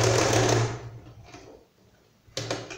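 A sewing machine runs a straight seam on small doll overalls, whirring steadily for under a second, falling quiet, then starting again with a short close burst of stitching.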